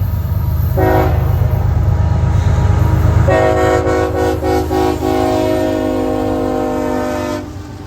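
A BNSF-area freight train rumbles past at Palmetto, Georgia, its loud, steady wheel noise joined by a brief horn blast early on and a longer sustained horn chord midway, running close and continuous throughout.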